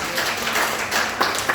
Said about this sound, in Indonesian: Sekali lagi tepuk tangan bagi Tuhan Yesus Kristus.